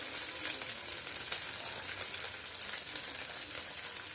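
Ginger garlic paste and cumin seeds fry in a hot pan, a dense continuous crackling sizzle with small pops, close and steady with no voices.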